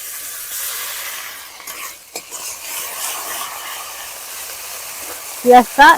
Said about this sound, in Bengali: পেঁয়াজ বাটাটা একটু ভালো করে ভেজে নিতে হবে।